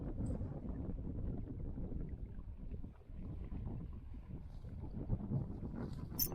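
Strong wind buffeting across the microphone while perch fishing, low rumbling gusts with a brief lull midway, rough and continuous, moderately loud and without voices.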